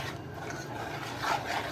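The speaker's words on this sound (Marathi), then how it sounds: "मी आता चांगला कणकेचा गोळा मळून घेते" Soft, steady rubbing and pressing of sweet potato and wheat flour dough kneaded by hand, a quiet rasping texture that swells slightly near the end, with no talking.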